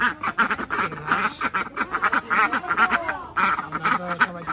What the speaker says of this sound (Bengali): এই যে এটা হচ্ছে চীন হাঁস